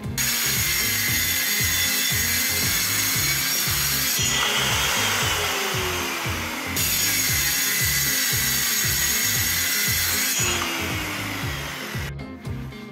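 A power saw cutting through the panels of a customer's wooden wardrobe, running loud and continuous with a rapid buzzing rasp, its pitch shifting as the blade bites in different sections, near and alone.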